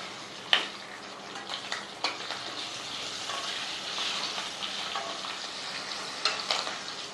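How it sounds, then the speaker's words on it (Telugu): Eggs frying with turmeric, curry leaves and seasoning in a steel pot for egg biryani, a steady close sizzle with occasional stirring scrapes and clicks, no talking. "అవి వేగుతూ ఉండగానే పసుపు 1/2 టీ స్పూను పసుపు వేసుకుని కోడిగుడ్లు వేపించేసుకోవాలి"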